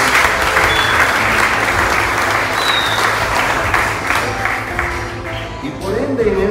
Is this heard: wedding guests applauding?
yes